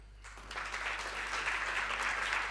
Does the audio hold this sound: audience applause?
yes